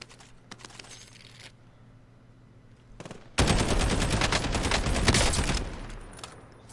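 Automatic weapon fire in Call of Duty: Warzone, a long dense burst of rapid shots starting after a brief earlier volley, loud and close with no talking.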